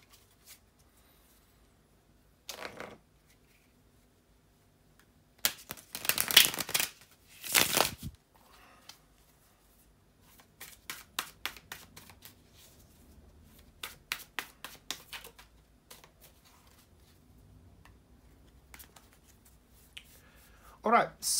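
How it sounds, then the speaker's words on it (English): Tarot cards are shuffled by hand in quiet bursts: a few riffles and bridge-like flutters, then a long run of rapid soft card slaps and rustles, close to the listener. "bear with me a second, guys, to shuffle the tarot cards"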